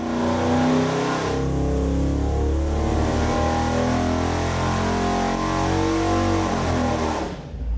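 A rebuilt AMC 304 V8 with port fuel injection roars at wide open throttle on a dyno, a loud, steady high-rpm drone held for several seconds before cutting off abruptly at the end.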